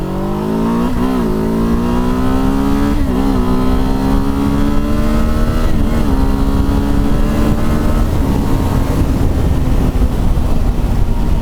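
A 2024 Kawasaki Z7 Hybrid motorcycle with e-boost engaged pulls hard from close by, its engine note rising through several gear changes with brief dips between shifts, loud and continuous with no talk.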